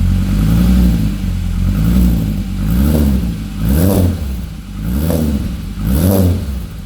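A cold Toyota MR2 with a VR5 turbo system idles with a deep, loud, close rumble that swells and eases in slow, regular waves, with no revving and no voices.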